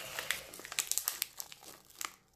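The wrapper of an M&Ms chocolate bar is peeled open from the back, giving a close, continuous crinkle of plastic packaging with sharp little crackles for about two seconds.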